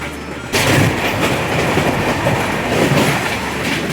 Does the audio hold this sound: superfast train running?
yes